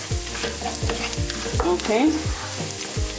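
Chicken curry sizzles in a hot pan while a utensil scrapes and stirs through it in quick, repeated strokes, close and moderately loud, with a brief spoken word.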